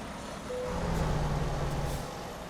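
A Mack truck engine in American Truck Simulator starts and settles into a loud, steady diesel rumble heard from outside the cab, without any voices.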